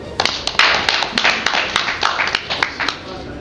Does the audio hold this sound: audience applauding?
yes